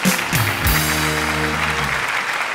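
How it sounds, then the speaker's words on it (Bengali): Audience applause for the judges at a comedy reality show semifinal, a loud, dense burst of clapping that swells quickly and holds steadily throughout, with a faint tonal hum underneath. "আমাদের বিচারকদের জন্য জোরে একটা করতালি হোক"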